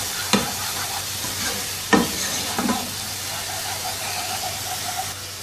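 Garlic ginger paste sautéing in a hot pan, a steady close sizzle with a few sharp spoon knocks and scrapes against the metal, loud and continuous, no voices.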